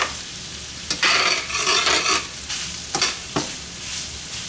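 Canned potatoes sizzling in a pan over a lowered flame, a continuous close fry broken by several sharp scraping stirs, with no one talking.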